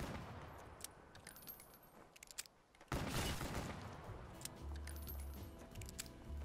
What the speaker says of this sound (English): at the beginning you start off with a revolver. It's called Bloodhound.